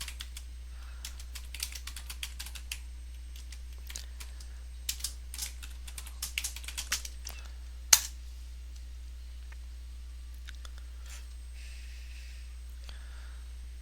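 A terminal command typed on a computer keyboard: quiet, irregular key clicks in short bursts with pauses between them, one sharper keystroke near the end, and no talking, over a low steady hum.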